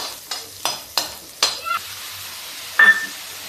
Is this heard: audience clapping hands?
no